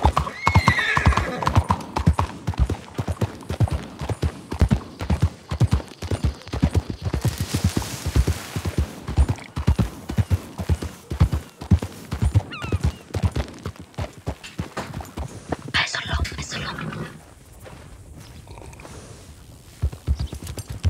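Horse hooves clip-clop steadily and loudly on hard ground, with a neigh breaking in near the middle and the hoofbeats fading toward the end.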